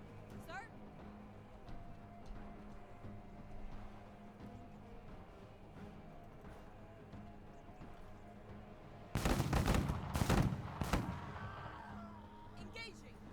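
Chain gun firing in the tactical video game MENACE, a loud rapid burst around two seconds long followed by a short extra burst, over steady low battlefield ambience.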